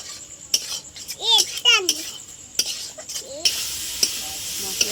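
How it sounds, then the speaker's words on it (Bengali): Tomato and onion paste with ground coriander, salt and fried potatoes being sautéd in a pan for prawn kalia. The stirring scrapes and clinks come up close in bursts over a steady sizzle. "মশলাটা ভালো করে কষে নেব"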